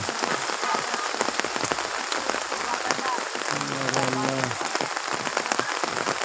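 Steady rain falls outdoors beside the Kuban river, where farm women toil near jute fields; a dense, even patter fills the whole stretch, with a short tonal hum rising briefly in the middle.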